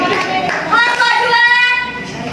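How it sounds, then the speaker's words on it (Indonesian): Students applaud a presenting group in a Grade 12 mathematics classroom at a Surakarta high school, with steady clapping under overlapping speech from a teacher and class. "Ya, aplaus buat kelompok 2"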